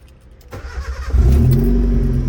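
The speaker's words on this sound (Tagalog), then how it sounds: "One click start, healthy engine." A Honda Civic engine cranks briefly and catches on the first try, settling into a loud, steady idle close to the microphone.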